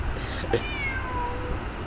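A cat meowing in the video game Genshin Impact, a single drawn-out meow with a falling pitch that carries over a steady background of game music and ambience.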